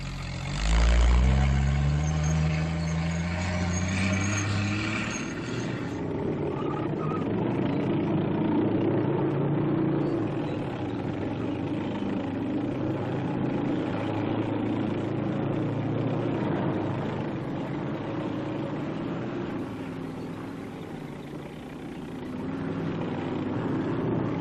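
An M29C Weasel light cargo carrier engine rumbles steadily through snow-covered terrain, starting with a rising whine as it revs up, then settling into a constant loud drone that runs throughout.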